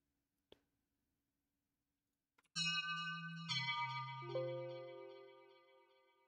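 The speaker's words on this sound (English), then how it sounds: "It's just a tubular bell." A tubular bell patch in music software rings out, struck a few times in sequence with bright metallic tones that sustain and slowly decay, preceded by a small isolated click.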